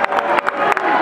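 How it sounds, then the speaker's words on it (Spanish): A crowd applauds at a freestyle rap battle, the Red Bull Batalla de Gallos in Argentina; loud, dense clapping mixed with cheering rises in close bursts across the short span. "Un fuerte aplauso para los dos"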